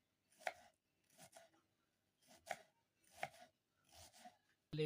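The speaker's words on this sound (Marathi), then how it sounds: "कोथिंबीर बारीक करायची" A knife chops fresh coriander finely on a board at home while biryani is being made, giving five quiet, evenly spaced chopping strokes close to the listener.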